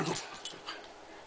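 A dog whimpering briefly while playing with its ball at home, a short high whine up close that fades out, with no speech.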